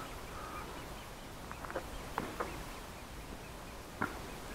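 Ducks floating on the water give a few scattered, faint quacks over a steady outdoor background, with no talking.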